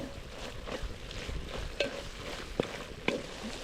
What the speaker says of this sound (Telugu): కారం వేసిన తర్వాత కలుపుకుంటానే ఉండాలి వేసుకుంటానే ఉండాలి